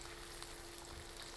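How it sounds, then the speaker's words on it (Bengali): Sliced onions go into hot oil where garlic is already browning, giving a steady, faint, even sizzle throughout with no talking. "রসুনটা দেওয়ার পরে এই যে আমি পেঁয়াজটা দিচ্ছি"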